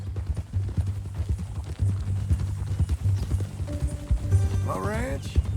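Horse hooves clip-clop steadily in a Red Dead Redemption 2 game scene, close and rhythmic, while voices talk over them and a brief whinny rises near the end.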